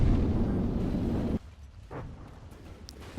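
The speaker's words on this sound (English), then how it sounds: "then what was that explosion?" A loud, dense explosion from the naval combat game From the Depths, multiple shells striking a battlecruiser turret, roars for over a second and cuts off abruptly, leaving quieter rumbling and faint pops afterward.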